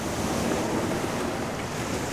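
Ocean surf breaking on a fishing beach, a continuous wash of moderate waves mixed with wind buffeting the microphone, with no voices.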